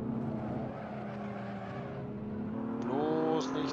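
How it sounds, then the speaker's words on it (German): A BMW Z4 in Assetto Corsa at the Nürburgring brakes hard, its steady engine drone dropping in pitch and then rising through quick downshifts near the end, close and continuous, with other cars faintly around. "Hart auf die Bremse hier."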